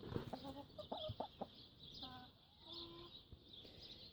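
Chickens on a chicken ranch clucking close by in short irregular bursts, with a few longer drawn-out calls, over a steady background hiss.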